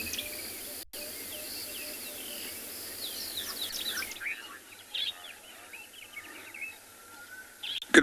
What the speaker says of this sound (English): We're currently at Chikudu Dam, just listening to some bird sounds